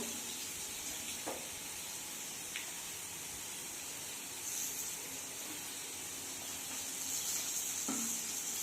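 Oil heating in a pan for Bengali vegetarian ghugni gives a faint, steady sizzle and hiss with a few brief clicks and taps, and it grows slightly stronger toward the end.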